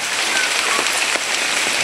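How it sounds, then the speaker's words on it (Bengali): Steady rain pours onto a village pond during a storm, a dense, continuous hiss of drops striking the water, close and even throughout with no voices. "কিন্তু বৃষ্টি নামে"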